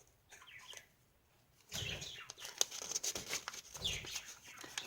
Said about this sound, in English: I've got our budgie going off in the background